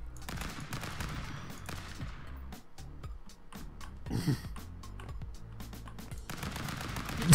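Rapid gunfire in the brawler game Stick Fight, repeated sharp shots and bursts over busy game sounds, moderately loud and continuous.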